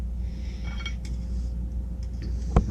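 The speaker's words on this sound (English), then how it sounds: "so we'll just cut this little slice" Cutlery cuts a small slice of jiggly homemade flan and pushes it across a plate. Faint soft scrapes lead up to a single sharp clink near the end, in a quiet kitchen.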